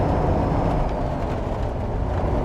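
A truck engine in the video game American Truck Simulator hums as a steady, dense low rumble with road noise, continuous and fairly loud, with no talking.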